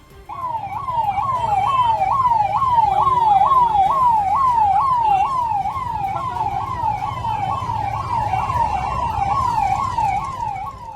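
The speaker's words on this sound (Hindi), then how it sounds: "फेज 2 इलाके में सायरन बजाते हुए पुलिस के अफसरों की गाड़ियां दौड़ती दिखी" Police vehicle sirens wailing during a protest in Noida's Phase 2 area, a loud rapidly cycling electronic siren sweeping up and down steadily for the whole stretch, close and alone.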